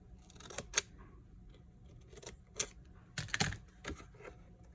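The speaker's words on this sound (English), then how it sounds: "I then cut 2 strips." Scissors cutting two paper strips for a no-sew notebook cover, several crisp snips in short irregular clusters, close and fairly quiet.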